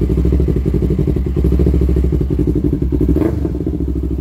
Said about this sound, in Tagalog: pakita ko lang yung andar na ito